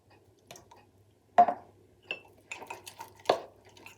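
A spoon clinks and scrapes intermittently against a ceramic mug while mixing chocolate mug cake batter, a few sharp taps and soft stirring scrapes in a quiet room.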